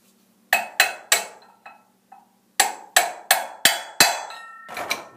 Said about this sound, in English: Turn this punch over that I'm using and drive it just a little further.